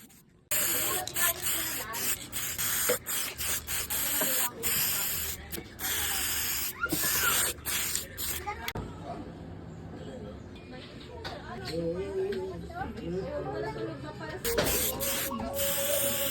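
Candy red paint sprayed in a second coat onto a fixie bicycle frame, bursts of aerosol hiss starting and stopping repeatedly with clattering handling noises and a voice talking in between.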